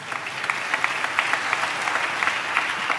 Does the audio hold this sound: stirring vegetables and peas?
no